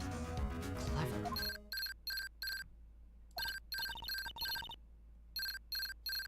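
A cellular phone rings in Phoenix Wright: Ace Attorney - Justice for All, its bright electronic ringtone pulsing in repeated short bursts after a brief swell of game music.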